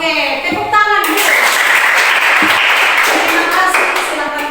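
An audience claps together in a church or fellowship gathering, a dense, loud burst of applause that runs steadily for several seconds with a voice briefly over it.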